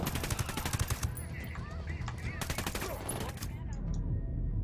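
Rapid automatic gunfire in the tactical shooter Ghost Recon Wildlands, dense bursts of shots in two clusters with a short lull between, fairly close and sharp.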